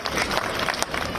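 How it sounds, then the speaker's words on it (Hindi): An outdoor crowd at a Lohri festival gathering in Jaipur's Raja Park claps loudly in a dense, continuous burst of applause, with a few sharper claps standing out. "एक बार जोरदार तालियों से रवि नैयर जी का स्वागत करिए"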